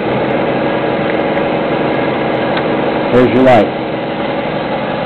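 An air compressor runs steadily in the background of a workshop during work on an e300 36-volt upgrade, a constant droning hum under a man's brief speech, with a short louder burst partway through.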